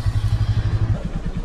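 A Royal Enfield Classic 350 motorcycle engine catches and settles into a rhythmic, thumping low idle, close and loud, with no speech.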